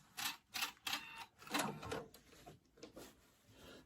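An embroidery sewing machine stitching in reverse, heard as a quick run of close, rhythmic mechanical bursts, several short clattering pulses with a brief gap between them, fairly near and with no talking.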